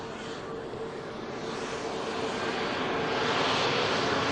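A Scandinavian airliner on Manchester Airport's runway 23 left, bound for Oslo, spools up its jet engines for departure: a steady, broad roar that grows louder over a few seconds, heard from a distance outdoors.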